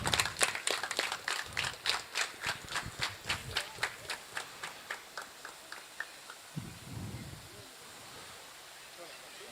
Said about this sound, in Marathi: जोरदार टाळ्या, जोरदार.